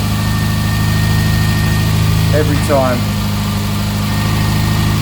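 A 1984 Ford Fiesta Mk2 Ghia petrol engine with a mechanical fuel pump idles just after starting, giving a loud, close, steady hum and rumble while someone speaks briefly over it.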